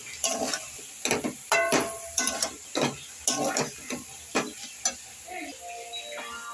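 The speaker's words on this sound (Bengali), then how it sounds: "এখন আমি এটা নাড়াচাড়া করব, আবার একটু কষাবো।" Cauliflower stir-fried with tomato paste for a roast with kasuri methi and poppy seeds, giving a run of sharp, rhythmic spatula scrapes and clacks against the pan over a soft sizzle, close and fairly loud.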